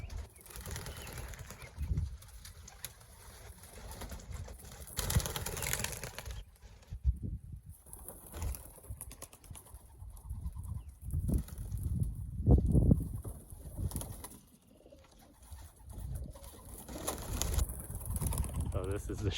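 Racing pigeons released from a loft after a week without flying, bursts of flapping wings rising and fading repeatedly over a low rumbling background, with someone talking at times.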